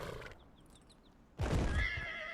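A horse whinnies in the Dragon Age Inquisition video game: a high, wavering neigh bursts in loudly after a near-silent stretch, with faint hoof clops and a thin chirping whistle beforehand.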